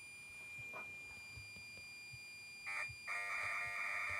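Program-loading tones for a Canon X-07 computer, played from a phone standing in for a cassette: a steady high whine, then bursts of bright harmonic data tones cutting in and out over a quiet background, fairly loud and alone.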